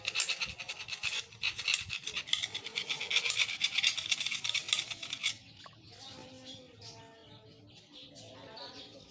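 Rapid rhythmic rasping of a metal file scraping back and forth on a rusty Sharp Innova air rifle for several seconds, then stopping, leaving faint chirping and a quieter background.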